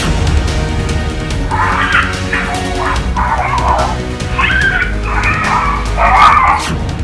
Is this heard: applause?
no